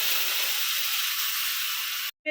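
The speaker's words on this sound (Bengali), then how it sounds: "মাংসের ফোটানোর জলটা সবজির মধ্যে দিয়ে দিচ্ছি হালকা ভেজে নিয়েছি সবজিটা" Meat stock water poured over lightly fried shredded cabbage and vegetables in a hot pan, a loud, steady, close hiss and sizzle that cuts off abruptly at the end.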